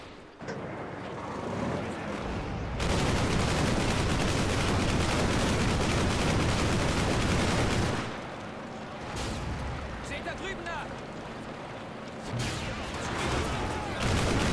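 Heavy, continuous battle noise from the World War II game Hour of Victory, with dense roaring blasts of weapon fire including a Panzerschreck. The loud stretches come in long bursts broken by short calmer gaps.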